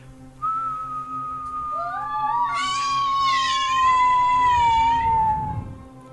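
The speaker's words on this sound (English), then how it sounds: "All of you hear this very distinctive whistling noise." A long descending whistle glides steadily across about five seconds, joined midway by layered warbling tones that swell and fade, the sound of something flying fast up a hole, loud and close with no talking.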